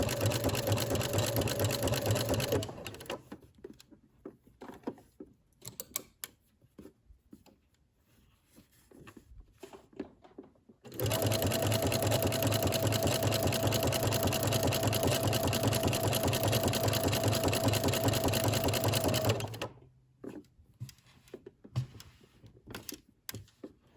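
A sewing machine stitches maxi dress fabric around curves in two long bursts of rapid, close mechanical whirring, separated by a quieter pause of scattered clicks and handling noise as the fabric is turned.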